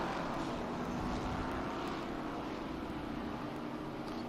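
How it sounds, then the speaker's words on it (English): A Shelby Mustang race car chased by a Bud Moore Mustang at Sebring during the SpeedTour, a loud sustained engine roar with a low droning tone, steady throughout and unaccompanied by talk. "Shelby Mustang being chased by a Bud Moore Mustang. That just sounds right, doesn't it?"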